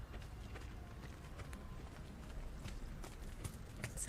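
Hooves of dressage horses at a junior eventing championship thud softly and rhythmically on the arena surface during a leg yield, faint and somewhat distant.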